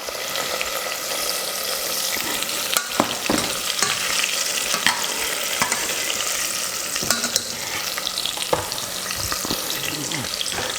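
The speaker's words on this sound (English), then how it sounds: "let me go ahead and see if I can show you how lovely those look frying up" Sliced ingredients sizzle steadily in a hot pan in a home kitchen while making creamy pinto bean soup, with scraping stirs and soft clacks of a utensil against the pan across the clip.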